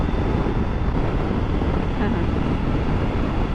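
Steady, heavy wind buffeting a microphone with a constant low roar while riding a Triumph Tiger 900 GT motorcycle at speed.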